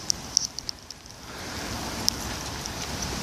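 Steady rain falling outside at night, a continuous broadband hiss with a few sharp drip-like ticks early on, swelling slightly louder partway through; no voices.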